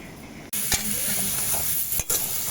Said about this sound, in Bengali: ছোলা ভাজা আমার হয়ে গেছে